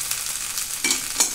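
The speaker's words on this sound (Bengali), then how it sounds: "আলু পেঁয়াজ ভাজা রেখে মিশিয়ে দিলাম" Fried potatoes and onions sizzle steadily in a pan while a spoon stirs them, giving a few soft scraping pushes against constant close frying hiss, with no voices.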